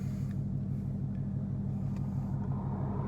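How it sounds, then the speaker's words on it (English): An old Ford Ranger pickup passes on the road with a steady low rumble that holds for a few seconds, moderately distant and fairly quiet, with no voices. "Got an old Ford Ranger driving by right now."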